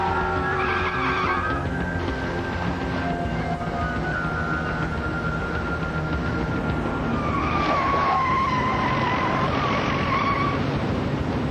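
A car skids and swerves across a roadway, tyres squealing in long drawn-out whines over a steady, loud road and engine rumble, with a sharper squeal near the end and no talk.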